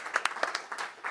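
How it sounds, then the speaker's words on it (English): A small conference audience gives the speaker a brief, sparse round of applause, a handful of distinct claps heard close and moderately loud. "Please give her a round of applause."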